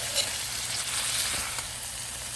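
Frozen shrimp sizzling in a frying pan, a close, steady crackling hiss of hot oil that stays even throughout, heard without talk.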